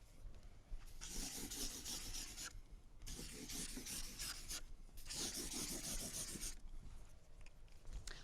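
A pencil shades in an area model drawing of pizza slices on paper, producing a close, steady scratchy rubbing in long back-and-forth strokes broken by two brief pauses.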